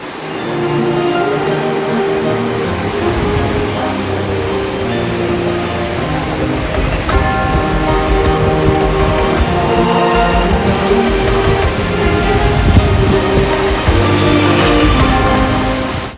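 Loud, constant roar of the flooded Alaknanda and Ganges rivers rushing past at Devprayag, a dense broadband wash close by, steady throughout with no voices.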